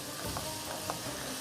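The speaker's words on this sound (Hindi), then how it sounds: "इसको आपने अच्छी तरह से फ्राई किया, और इसमें डलेगी थोड़ी सी दालचीनी" Spices and cinnamon frying in a pan for Arabic-style cooking, giving a steady close sizzle with faint crackles and no voices.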